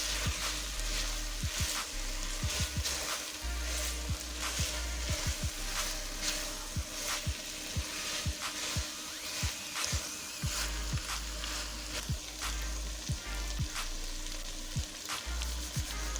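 Potatoes, peas and carrots fry steadily over a medium flame, a continuous close sizzle punctuated by frequent scraping stirs and light clicks of a spoon against the pan, with no voices.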